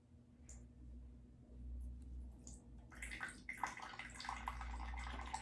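Water pours into the reservoir of a HumminGuru ultrasonic record cleaner, starting as quiet trickles and becoming a continuous close splashing stream after a few seconds.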